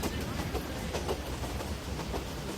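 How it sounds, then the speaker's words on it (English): A train pulls out of Goa, India, with a steady rumbling roll, faint wheel clatter and continuous mechanical noise, someone narrating over it. "The 4:30 train back to the real India departs Goa's land of mirrors."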